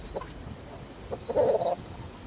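A fighting rooster kept in a backyard gives a couple of short clucks, then a louder, slightly longer call, close by over a quiet background.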